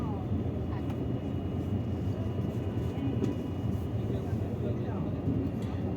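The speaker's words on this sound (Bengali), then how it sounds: "চলো তোমাদেরকে ট্রেনটা দেখাই" A train passes a railway level crossing, making a loud, steady rumbling roar that fills the whole stretch without pause.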